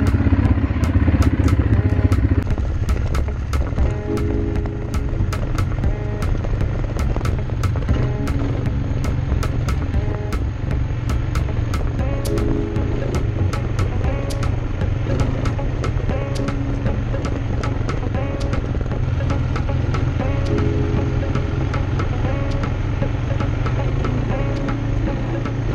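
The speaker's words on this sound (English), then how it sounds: "we've just finished up the quad bike riding" Quad bike ridden cross country in Morocco, its engine droning steadily and loudly for the whole stretch, with repeated rattling clatter and wind over the motor and no talking.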